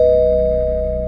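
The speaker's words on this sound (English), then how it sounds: "someone rang the doorbell again." A sustained electronic doorbell chime rings steadily and loudly, holding for about a second with no talking, in an animation.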